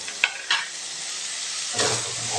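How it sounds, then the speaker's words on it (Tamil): Mushrooms are added to masala sautéed in hot oil, bringing a bright sizzle; a couple of soft utensil knocks come first, then a louder hiss of frying rises near the end. "இந்த மசாலாலாம் நல்லா எண்ணெயில் வதக்கி விட்டாச்சுங்க இப்போ நம்ம காளான் சேர்த்துக்கலாம்"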